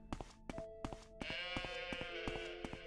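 A goat bleats in the video game Morrowind, a sustained nasal cry rising over a steady rhythm of faint footsteps, fairly quiet and alone without talk.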